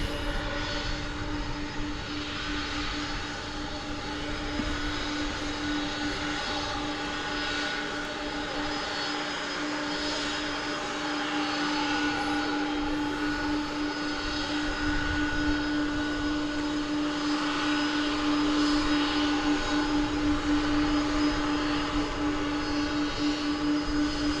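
A CRJ 701ER regional jet of American Flight 4926 touching down on runway 18 right at DFW Airport, a steady distant engine roar with a thin whine, holding even and slowly swelling toward the end.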